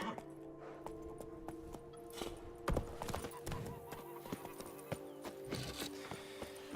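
Roach, a horse in The Witcher 3 game, clip-clops at a steady walk with rhythmic hoofbeats close by, against ambient game music and background noise, with occasional louder thuds.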